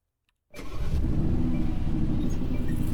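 A car engine starts after a brief silence, catching abruptly and settling straight into a loud, steady, rumbling idle that carries on close by without a break.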